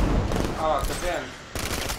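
A rapid burst of gunfire in Batman: Arkham Knight rattling continuously, then a short pause and another volley, loud and close.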